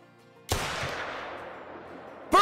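A single shot from a 45-70 single shot pistol in the hunting game Call of the Wild cracks loudly and decays into a long outdoor rolling echo, followed by a second sharp sound at the end.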